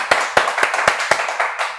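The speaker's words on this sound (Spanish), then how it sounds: "voy a pedir un aplauso de todo el equipo" A short burst of applause, a small group clapping steadily and close, with a few sharper individual claps standing out.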